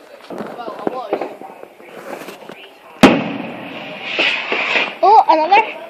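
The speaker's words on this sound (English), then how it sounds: "But there's still fireworks going on, but we can't see them." Unseen fireworks go off in the distance outdoors, with one sharp bang midway amid ongoing crackle, while people talk and laugh excitedly throughout.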